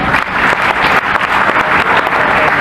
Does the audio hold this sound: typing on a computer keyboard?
no